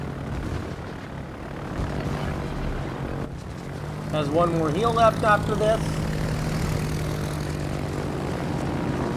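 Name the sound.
carrier planes flying in video game World of Warships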